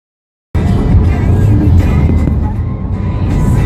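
Car driving along a road through hills with windmills near Los Angeles, heard from inside: a loud, steady engine and road roar that begins abruptly and holds at an even level throughout.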